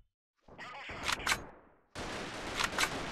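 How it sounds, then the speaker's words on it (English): Bursts of gunfire in the video game Freeman: Guerrilla Warfare during the Siege of Zinkov, sharp cracks and rattling volleys in two loud clusters separated by a brief lull, fairly close. "Oh, yeah, we're firing right away."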